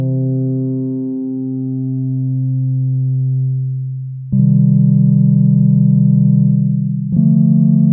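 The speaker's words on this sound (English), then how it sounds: "By the way, FM is meant to just be done with sine waves. See how it sounds more predictable" An FM synthesizer built from sine waves plays steady sustained tones, holding one low pitch, then jumping to a brighter, buzzier note and shifting again near the end.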